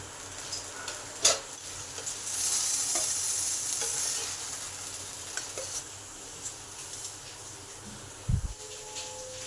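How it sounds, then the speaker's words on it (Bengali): Eggplant pieces fry in a pan, browning for a spicy-sweet achari begun dish, with a steady moderate sizzle, a few stirring clicks and a brief louder clatter near the end; no one speaks. "বেগুনগুলো আমার লাল লাল করে ভাজা হয়ে গেছে।"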